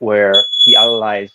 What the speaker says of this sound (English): was my fire alarm again